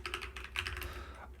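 Rapid, uneven clatter of fingers typing on a computer keyboard, close and fairly loud, running in short bursts with no talking.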